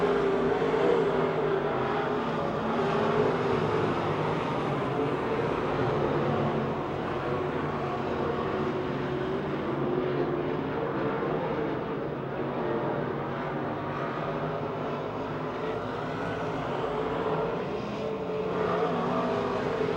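Race cars roar around Pennsylvania Motor Speedway near Pittsburgh late in a race, a continuous loud engine drone rising and falling as the field passes, heard from a distance without any talk.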